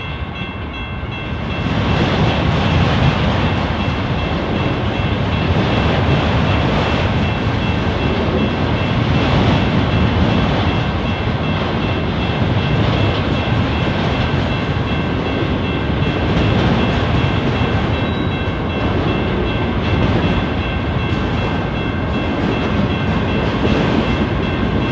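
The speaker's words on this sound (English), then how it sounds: "a pair of CSX locomotives are seen with a long cut of cars from Rougemere Yard" Two CSX locomotives haul a long cut of cars out of Rougemere Yard at Delray Junction in Detroit, a loud, steady rumble and grinding roll of wagons that holds through the whole stretch with no voices.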